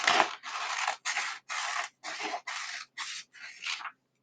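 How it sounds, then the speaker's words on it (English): Scissors snip through folded paper in about eight steady, evenly spaced cuts, close and crisp, with short pauses between strokes and no talking. "go ahead and cut right on that fold"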